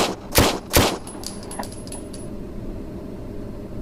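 Two sharp rifle shots fired in quick succession in the VR shooting game Range Day VR, loud and close, with a faint metallic ring trailing off afterward.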